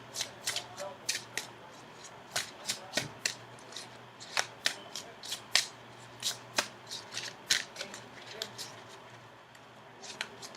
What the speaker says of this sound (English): go ahead and shuffle for your outcome card